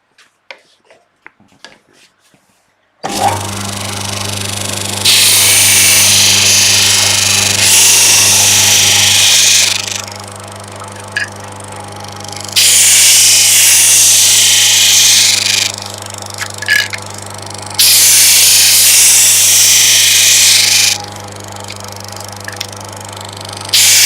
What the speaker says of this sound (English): So over to our little sander.